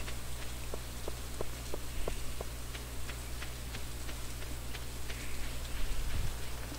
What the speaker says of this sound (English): Oh, and Penny's standing in the rain again.